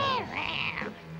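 A cartoon cat from The Smurfs howls in a drawn-out, wavering yowl that rises and falls, loud and close, with no talking.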